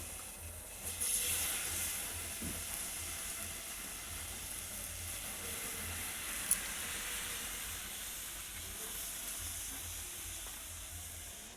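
White pitha rice cakes frying in hot oil, a steady soft sizzling hiss that runs evenly throughout at low level, with no voices.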